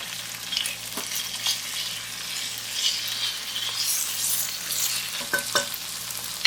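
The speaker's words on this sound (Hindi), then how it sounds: "जिंजर गार्लिक के पेस्ट को अच्छी तरह से फ्राई करेंगे, फिर कच्चापन खत्म करेंगे। अब इसके अंदर कीमा शामिल करेंगे।" Chicken mince with ginger garlic paste fries in a pan with a steady, close sizzle, broken by a few scraping stirs and light clinks of a utensil, and no voices.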